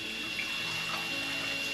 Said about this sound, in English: It's a drainage, and you can see I dump the water out